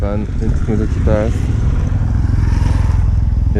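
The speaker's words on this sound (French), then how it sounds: "une petite moto qui passe" A small motorcycle passes along a road in Hokkaido, its engine a steady close buzz that holds through the whole stretch, with a voice talking over the first part.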